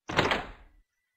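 In a video game, an old door unlocked with an aged key swings open: a single heavy wooden thud that trails off within a second, then silence.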